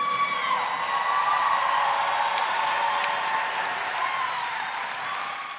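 Broad wash of audience applause with scattered whoops and cheers, steady and fairly loud throughout, slowly fading toward the end.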